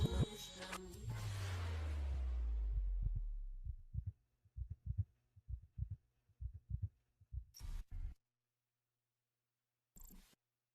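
A slow, steady heartbeat, each pulse a soft low thump in a regular lub-dub rhythm, heard up close after a louder rumbling swell fades, with a couple of brief bursts of noise near the end.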